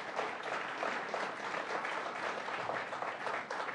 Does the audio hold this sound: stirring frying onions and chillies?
no